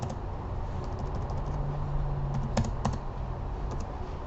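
Quick bursts of typing on a computer keyboard with several distinct key clicks, close and steady over a low background hum, no talking.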